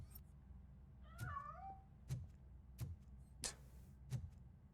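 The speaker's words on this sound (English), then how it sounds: "That cat must be hiding inside." A cat in the video game RoboCop: Rogue City gives a single clear meow with bending, wavering pitch, heard near and alone over a low hum, with sharp ticking clicks recurring steadily before and after it.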